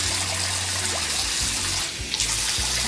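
Tap water runs steadily while a newborn's first bath is being prepared, a continuous close hiss of flowing water that briefly softens midway.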